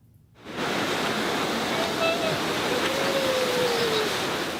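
Ocean surf at Del Mar's annual Surf Dog Surfathon, a steady roaring wash of breaking waves that starts abruptly and holds for several seconds, with faint thin tones riding over it.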